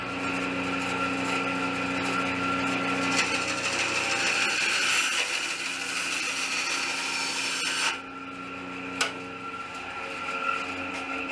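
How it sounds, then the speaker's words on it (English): A bandsaw cuts half-inch aluminum pipe with a steady, loud mechanical whine and a harsh rasp. The blade noise eases off at about eight seconds and leaves the machine humming, with a couple of faint clunks afterward. "I'm going to cut it on the bandsaw"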